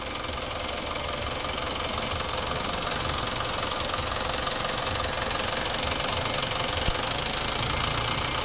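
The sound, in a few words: Isuzu Fuego truck compressor running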